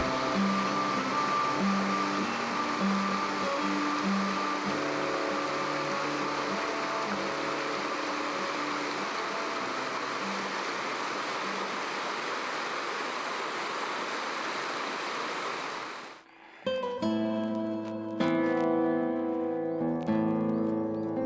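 Continuous rushing water of the Otal river in the Pyrenees fills the scene with a broad steady roar, then drops away abruptly, leaving quieter ambience with scattered clatter.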